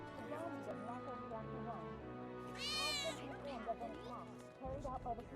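A cat meows in Final Fantasy 7 Remake, a short rising cry standing out clearly amid a steady game soundtrack, with someone talking around it.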